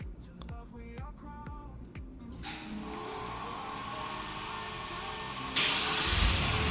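A Hyundai Porter 2 LPG truck started by remote: a few sharp clicks, then the engine catches with a steady close rumble that runs on and grows louder near the end.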